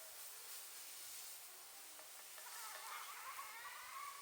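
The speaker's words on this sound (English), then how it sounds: "We're still frying the pancake and roasting the apple." A pancake fries in a skillet over a campfire, giving a soft, steady sizzle and hiss that grows slightly louder toward the end, quiet and close, with no talking.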